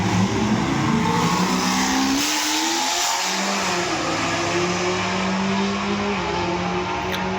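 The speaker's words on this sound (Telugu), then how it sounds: "ఈ రేస్ లో రైట్ సైడ్ ఉన్నదేమో బ్లాక్ కలర్ లో చాక్లెట్ కెమెరో, లెఫ్ట్ సైడ్ లో ఉన్నదేమో నిసాన్ GTR R35." A Chevrolet Camaro and a Nissan GT-R R35 drag racing in Kuwait, with loud, sustained engine roar and revving that stays close and continuous, briefly dipping mid-run before surging again.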